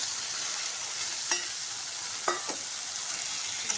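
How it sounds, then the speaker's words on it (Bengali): Fried fish is stirred into masala sizzling in oil, giving a soft continuous sizzle punctuated by a few brief scraping stirs. "মশলাটার সঙ্গে মিক্স করব ভালো করে।"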